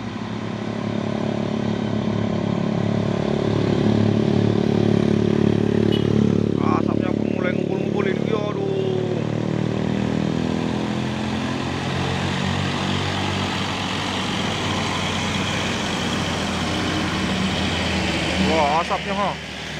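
A heavily loaded orange expedition truck in Kalimantan grinds uphill, its engine labouring with a steady loud drone that swells and eases, while people talk over it.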